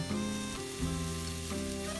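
Small diced sweet potato pieces stir-frying in a pot for a creamy soup, a steady close sizzle with stirring scrapes throughout, no voices.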